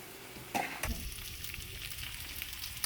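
Meat fries steadily in a pan, giving a close, continuous sizzle, with a few clanks and scrapes early on as tongs shift the pieces around.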